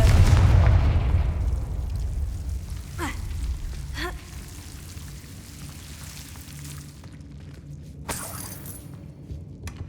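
A fire-blast spell bursting in the Hogwarts Legacy video game: a heavy, rumbling boom at the start that decays into a long low roar, followed by a few whooshing sweeps and a later crack.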